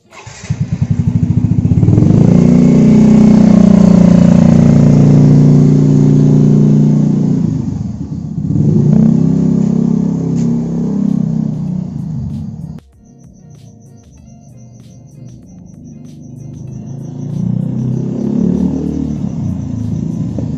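A Yamaha Mio M3 scooter fitted with a new CVT clutch and spring revs hard and loud up close for several seconds, drops off, revs again, then settles to a quieter idle that picks up toward the end.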